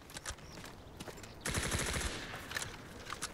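Fast automatic gunfire from a tank in the shooter game Delta Force, a short rattling burst of rapid shots at moderate distance amid scattered fainter shots, fairly quiet overall.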